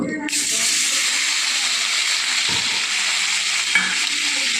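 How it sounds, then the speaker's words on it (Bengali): Paneer frying in butter and oil, a loud, steady, close hiss of sizzling that starts abruptly and continues evenly, with a couple of faint stirring knocks. "এবার পনিরগুলো আমি হালকা করে একটু ভেজে নেব"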